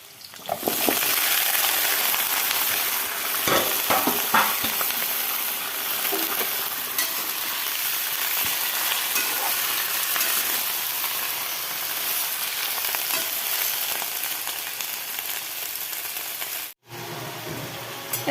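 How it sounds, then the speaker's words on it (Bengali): Onion greens and potatoes fry in a pan with a continuous close sizzle, punctuated by occasional clinks and stirring scrapes, with a brief drop-out just before the end. "এখন এই যে পেঁয়াজ কলি আর আলু ভাজা করছি"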